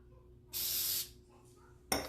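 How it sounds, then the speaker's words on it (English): Hairspray sprayed onto a curled prom updo, one steady hissing burst of about half a second, then a second short spray starting at the end, close and clear over a quiet background. "And normally we would not be hairspraying every single layer of curls."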